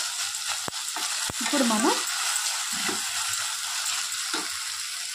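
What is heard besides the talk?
eggplant frying in a pan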